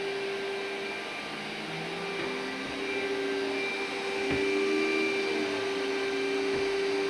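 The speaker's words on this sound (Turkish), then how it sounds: "Az çalışıyor süpürge." A vacuum cleaner drones steadily with a constant motor whine, fairly quiet and continuous, with no voices.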